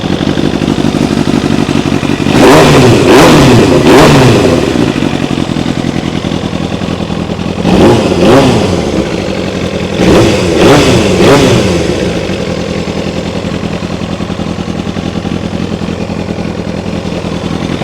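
Kawasaki ZX7R sport bike under rebuild, engine idling steadily with three loud blips of the throttle, rising and falling revs in quick clusters close by, then settling back to idle.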